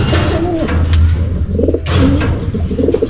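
Racing pigeons coo in repeated low, throaty phrases close by, with faint chirps and a brief flutter of wings mixed in.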